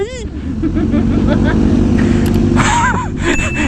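A loud Kawasaki ZX-10R motorcycle engine drones steadily, close by, with a voice speaking briefly over it near the end.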